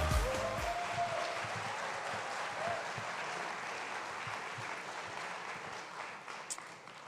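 Applause from an audience at an anniversary celebration's opening ceremony, a sustained, fairly distant ripple of clapping that continues evenly for several seconds, with a brief musical tone fading at the start.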